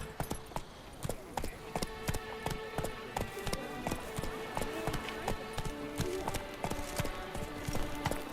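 Roach the horse gallops in The Witcher 3, hooves clip-clopping in a steady, quick rhythm throughout, close and clear.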